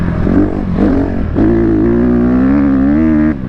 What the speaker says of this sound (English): off-roading on a dirt bike feels way more comfortable than an electric bike